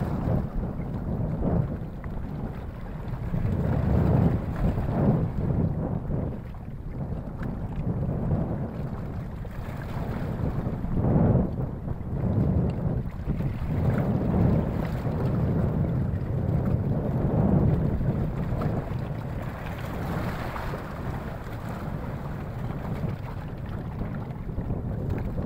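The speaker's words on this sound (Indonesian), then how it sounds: "karena suara ombak ini masih terus berbunyi" Sea waves wash steadily around a boat out at sea on a calm afternoon, a continuous low rumbling surge heavy with wind buffeting the microphone, with no voices.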